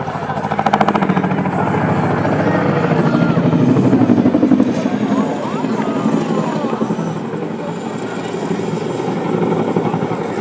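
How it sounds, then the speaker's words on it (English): Chinook twin-rotor helicopter in a flying display at an air show, with a loud, steady rotor thump and engine roar close by that swells and fades slightly while a commentator talks over it. "They begin their pull up for the 2023 Royal Airport Chinook display."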